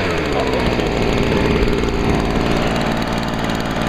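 A Stihl BG55 handheld gas leaf blower runs steadily at full throttle after a choked pull start, a loud continuous buzzing two-stroke drone with no pauses.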